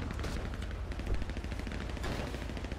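Rapid video game gunfire, a dense burst of repeated shots firing continuously and loudly for a few seconds.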